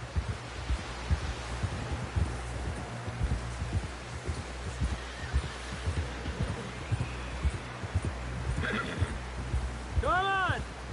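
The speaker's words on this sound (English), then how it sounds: "Someone help John down off this horse" Horses neigh and whinny in Red Dead Redemption 2 while hooves clip-clop steadily beneath a busy game soundscape, with the loudest stacked whinny arriving near the end and voices heard intermittently.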